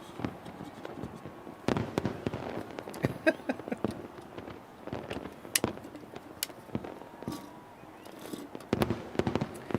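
New Year's Eve fireworks over New York City crackle and pop in rapid irregular bursts, loud and close, with crowd voices and talk mixed underneath.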